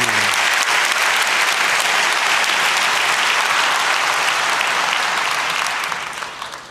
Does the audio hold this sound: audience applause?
yes